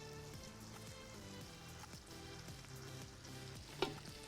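Kebabs frying in hot oil, giving a steady close crackling sizzle with soft background music underneath.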